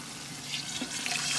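Water poured from a tap into a simmering tomato-based tchiep sauce for rice, a soft, steady close splashing and trickling over quiet kitchen background.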